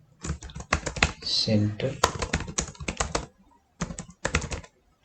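Rapid keystrokes on a computer keyboard as code is typed for an Angular component, clattering in dense bursts with short pauses, close and clear, with someone speaking over parts of it.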